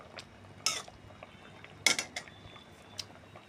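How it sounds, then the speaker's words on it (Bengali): Metal pot lid lifted off a cooking pot of steamed hilsa fish, giving two sharp clanks about a second apart, with a fainter clink afterward over a quiet kitchen background. "এখন ঢাকনা খুলে দিই।"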